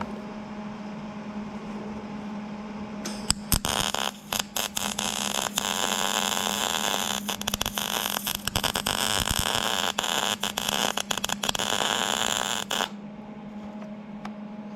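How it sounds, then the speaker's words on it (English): A welder runs a bead on metal plate of matching thickness during wood splitter upgrades, giving a steady loud crackling hiss with sharp pops that lasts about nine seconds amid a constant background hum. "I'm going to try to run the welder with the settings they had"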